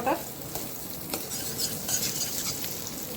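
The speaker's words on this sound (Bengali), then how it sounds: "বাটারটা বলতে শুরু করেছে।" Amul butter melting and sizzling in a hot wok, a continuous close crackling hiss with light scrapes and clinks of a spatula against the metal.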